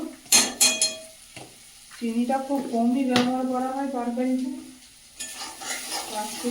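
Ginger and garlic frying for a fish curry, with a scraping stir and low sizzle in the pan, a few sharp utensil clinks, and a voice speaking over the cooking for much of the time.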